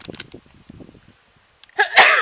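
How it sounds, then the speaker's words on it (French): A woman's single loud sneeze, a sharp close burst after a brief quiet intake, preceded by soft murmured speech. "je vais éternuer"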